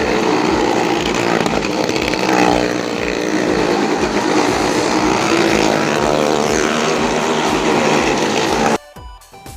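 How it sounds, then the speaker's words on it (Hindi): Motorcycle engine roaring continuously at a village fair stunt show, loud and close with a steady buzzing drone that holds for several seconds before cutting off abruptly near the end. "अब ये दूसरे भैया ने भी स्टार्ट कर दी है अपनी बाइक"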